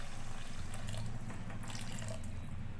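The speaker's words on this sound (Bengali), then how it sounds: "এবার আমি দিয়ে দেবো পরিমাণ মতন জল" Water pours steadily into a pan of fried spices while cooking a pabda fish curry, a continuous close splashing and trickling stream with no voices.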